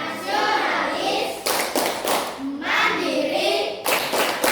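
In a sixth-grade classroom, children clap out the Tepuk PPK chant: repeated loud clusters of group hand claps alternating with chanted voices, near and energetic.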